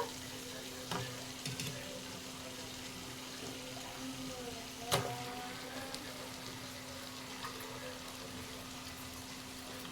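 Half a kilo of washed chicken fries in spice masala for a lemon leaf chicken recipe, a soft continuous sizzle with a few sharp clinks and stirring knocks, one louder near the middle.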